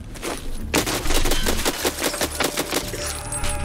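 Rapid automatic gunfire in the Escape from Tarkov video game, a close, loud burst of evenly spaced shots lasting a few seconds, with no talking over it.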